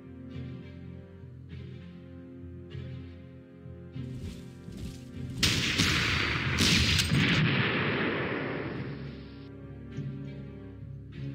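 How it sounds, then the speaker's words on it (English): Artillery fire in the wartime strategy game Panzer Corps: a heavy burst of explosive booms with a long rumbling tail, framed by quieter tonal game sounds before and after. "So much artillery."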